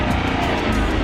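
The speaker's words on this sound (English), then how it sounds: "give it a rev. Make sure it sounds healthy." A Land Rover LR3 engine revving, loud and close, with a steady dense roar that holds throughout without any talking.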